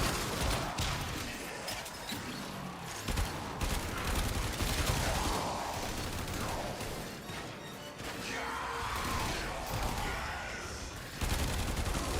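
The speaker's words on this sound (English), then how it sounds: "I shoot them through the wall." Weapons fire shoots enemies through a wall in the sci-fi game Warframe: dense, rapid bursts of gunfire with crashing impacts that continue loud and busy throughout.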